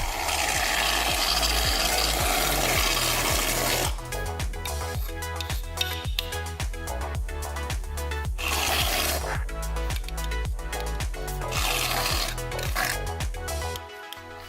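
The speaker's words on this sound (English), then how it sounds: "Stir everything around, and amazingly, this tiny piece of slime will actually turn all the shaving cream into slime as well." Shaving cream is stirred into a small piece of fluffy slime in a cup, making a steady run of rhythmic squelching, crackling strokes that repeat close up for the whole stretch, without voices.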